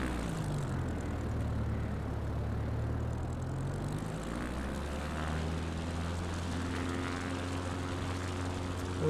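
A propeller plane in Microsoft Flight Simulator 2024, flying over Etosha National Park, drones continuously with a steady engine hum and a shifting propeller pitch that rises and falls, alone and without talk.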